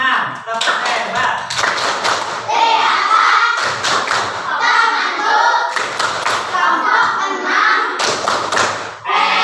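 A classroom group performs a patterned clapping routine, with bursts of loud hand claps and thumps in a repeating rhythm, broken by short pauses and mixed with children's voices chanting along.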